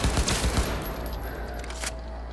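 Rapid gunfire in the Cyberpunk video game, a dense burst of shots and impacts filling the short stretch at steady loudness, with a brief sharp crack near the end and no speech.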